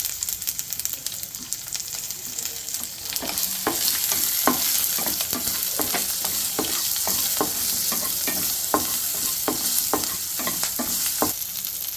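Garlic, green chilies and asafoetida frying in hot oil in a pan: a loud, continuous crackling sizzle with rapid spattering pops, close and steady for several seconds, with no voices.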